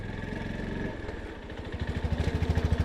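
A Honda CB350 motorcycle rolls over stone-paved ground at a fort, its thumping engine pulsing steadily and growing louder and more rhythmic toward the end, with a faint rattle over the paving.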